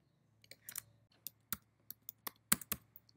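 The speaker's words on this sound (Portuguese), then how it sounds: "Digitando a senha" Password being typed on a computer keyboard at a Linux terminal during an Ubuntu Java install: a run of sharp, irregular key clicks, close and fairly quiet, with no talking.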